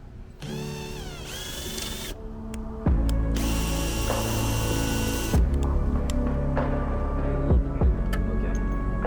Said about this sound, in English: So I'm gonna be drilling.